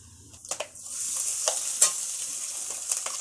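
Cumin and fennel seeds sizzling in hot oil for a palak chicken gravy, a bright continuous hiss with a few sharp pops and crackles, close and loud with no talk.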